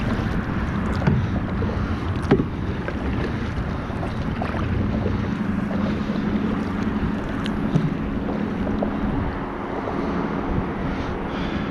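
An Ascend H12 hybrid kayak glides across open water in a light breeze, a steady wash of water and wind rumble against the microphone with faint paddle splashes and knocks, no talking.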